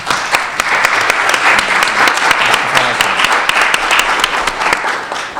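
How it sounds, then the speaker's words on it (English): A conference audience gives a panel on the future of education a sustained round of applause, dense, close clapping that holds at a steady level throughout. "let's give them an applause"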